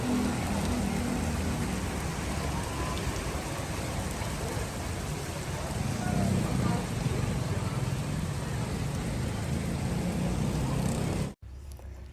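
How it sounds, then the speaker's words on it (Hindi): Steady, loud rain falls continuously as a dense, even hiss that lasts nearly the whole time, then cuts off abruptly near the end. "बारिश शुरू हो गई थी"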